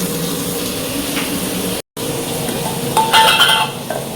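A spoon stirs fish head and eggplant in a pot with a little water, giving a continuous wet, sizzling scrape that grows a bit busier near the end.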